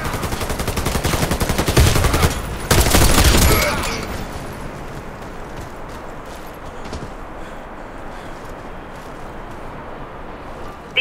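The SRM 1216 shotgun fires in a video game as a dense burst of rapid, loud shots that peaks early and then gives way to a sustained roar of battle noise and gunfire.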